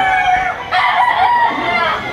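Close and loud, a Lemon 84 gamefowl rooster crows in two connected pushes, a short opening note followed by a longer sustained call that tapers off.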